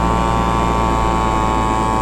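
SkyMax Star frame paramotor engine droning at steady throttle in flight, a loud, unbroken buzz with a constant pitch and no talking.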